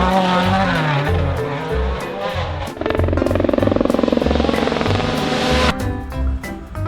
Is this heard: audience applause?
no